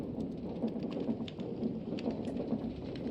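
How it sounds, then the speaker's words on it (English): Steady rain pours through a Minecraft Vault Hunters thunderstorm, with low thunder rumbling underneath, continuous and even throughout with no voices. "So we've got a massive storm outside right now."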